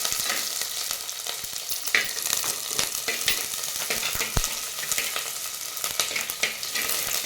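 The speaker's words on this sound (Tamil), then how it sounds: "எல்லாத்தையும் சேர்த்து நல்லா வதக்கலாம்" Curry leaves, garlic and ground masala sauté in a clay pot for field bean gravy, a dense continuous frying crackle broken by scraping stirs and a few sharp knocks of the spoon.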